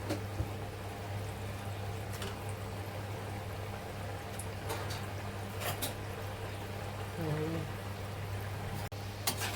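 Rolled shankarpali dough pieces fry in medium-hot oil, giving a soft, steady sizzle and bubbling with occasional light clinks, fairly quiet, as someone speaks over it.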